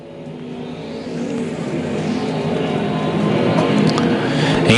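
Stock cars race around the Lakeside Speedway dirt track at night, a loud droning roar of engines that swells steadily as the pack draws nearer, with a continuous layered rumble and no pauses.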